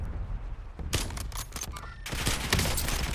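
Rapid bursts of gunfire in a Warzone match, loud and dense, arriving in volleys after a short lull and continuing almost without pause.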